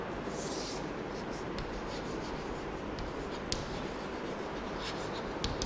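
Writing on a board during a maths lesson, a continuous close scratching and rubbing with a few small taps, heard alone against a steady background hum.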